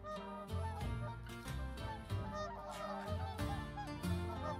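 Geese honk repeatedly in a pasture in the Settlement Survival video game, a loose chorus of nasal calls in irregular bursts over a soft background bed, with no talking.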